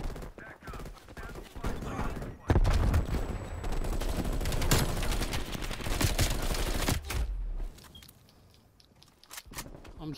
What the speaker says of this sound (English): I'm shooting the shit out of him